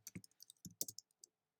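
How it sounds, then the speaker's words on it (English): Quiet clicks of a computer keyboard being typed on, about a dozen key taps in an uneven quick rhythm, close but faint, with no one speaking. "I'm just going to type in Jojo, and I'm going to type in"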